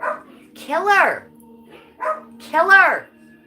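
A pet dog yips and barks indoors at home, a few close, loud, high-pitched barks in two short bursts with brief whimpering tones, set apart by quiet gaps.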